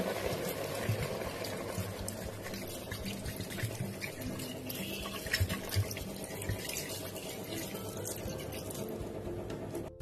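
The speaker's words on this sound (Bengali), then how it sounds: "আর একটু জল দিয়ে দিচ্ছি" Water pours steadily into a cooking pot for chicken soup, with a continuous splashing gurgle that stays close and moderately loud for the whole stretch, with no talking.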